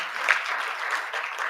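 Brief applause for a group at the C20 South Africa launch and mid-term dialogue, a steady wash of clapping from a seated audience, moderately loud and even.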